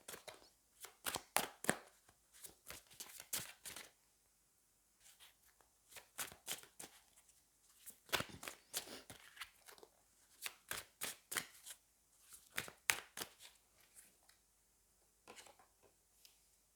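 Tarot cards shuffled in bursts of quick riffling flicks, clear and close, with short pauses between rounds of shuffling and no talking.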